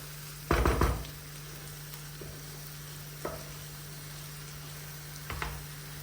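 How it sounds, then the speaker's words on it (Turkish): A spoon stirs rice with spices and seasonings in a pot, giving a few scraping knocks and rustles spaced across a quiet background with a steady low hum. "Şimdi güzelce hepsi birbirine karışsın."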